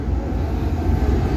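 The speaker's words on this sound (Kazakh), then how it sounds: "Алматы фирмалық пойызы" An Almaty branded passenger train rolls past with a loud, steady low rumble, close and continuous for over a second.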